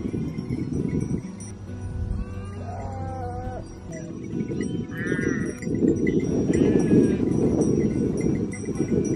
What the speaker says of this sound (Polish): Patrzcie, stado przedziwnych stworzeń, znaczy baranków, ale mają takie bardzo dziwne rogi i koski.